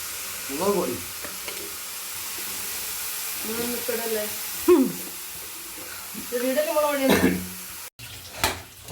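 Onions are sautéed quickly in a hot pan, giving a steady, close sizzle and crackle that runs throughout while a person talks intermittently over it.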